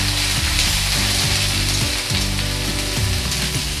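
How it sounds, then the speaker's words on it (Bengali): Onion and ginger paste fries in a hot pan with a dense, steady sizzle, punctuated by rhythmic scraping strokes of a spatula, close and constant with no voices. "পেঁয়াজ আদাটা আমি ভালো করে একটু কষে নেব।"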